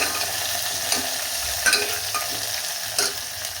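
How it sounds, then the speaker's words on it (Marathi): Close, crackling sizzle of garlic and green chili frying in oil, steady throughout with a few brief louder pops and scrapes. "हे आपल्याला लसूण आणि हिरवी मिरची तेलामध्ये छान परतून घ्यायची"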